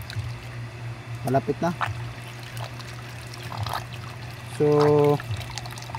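Water trickles and pours weakly from the hose of a water pump that has had trouble drawing water, a faint uneven splashing heard under someone talking.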